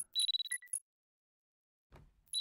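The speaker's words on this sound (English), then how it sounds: "The alarm is ringing." Alarm in the video game Parasocial: short bursts of high electronic ringing pulses, then a pause and a low thump before the ringing resumes faintly at the end.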